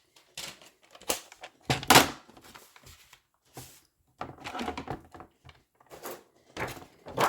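Patterned paper for an accordion album is cut with a series of irregular, close crisp cutting and rustling sounds, some louder snaps among quieter scrapes, separated by short silent gaps.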